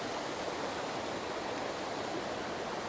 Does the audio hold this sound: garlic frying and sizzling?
no